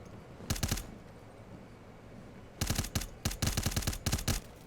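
Gunfire in a tactical shooter video game during tournament finals play, short rapid automatic bursts, one early and several tightly spaced later, loud and close over a quiet background with no talk.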